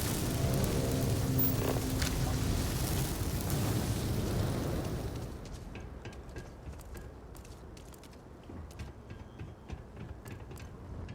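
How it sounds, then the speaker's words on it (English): Incendiary mines go off in the video game Starfield, a loud roaring burst of fire and blast that holds for several seconds, then drops to a quieter crackling burn dotted with small pops. "Fucking incendiary mines."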